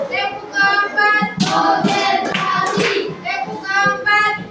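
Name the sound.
hands clapping in rhythm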